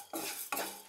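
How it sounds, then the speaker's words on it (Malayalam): Two spoonfuls of raw rice go into a hot pan and get stirred while preparing inchi puli, a tamarind-ginger Onam dish. A spoon scrapes against the pan in three close, distinct bursts with a light rattle and no voices. "ആ അരി ഞാനിവിടെ ആദ്യം ഇട്ട് കൊടുക്കുകയാണ്"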